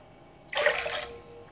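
Water is poured into a pan of sugar for syrup, a sudden splashing gush that lasts about half a second and then trails off into a softer trickle.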